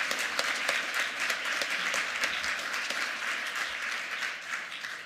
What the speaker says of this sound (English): Everybody, big round of applause for our speakers.